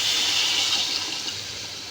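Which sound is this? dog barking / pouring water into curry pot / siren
pouring water into curry pot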